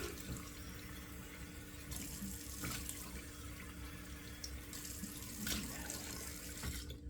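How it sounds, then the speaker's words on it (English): Water runs steadily from a tap into a sink as cold water is splashed on a face, with a few soft splashes and knocks over the flow; no one speaks. "I'm going to splash them with 2 splashes of cold water"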